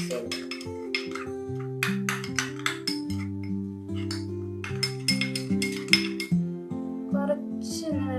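A spoon clinks and scrapes against a bowl while a ragi flour face pack is stirred together with milk, with light repeated taps over steady background music.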